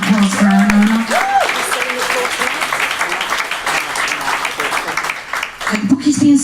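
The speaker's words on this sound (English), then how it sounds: "We have a fantastic round of applause for our Nona." Applause from the audience at a book launch, a dense wash of clapping with voices calling out over it, loud and close, with a voice rising again near the end.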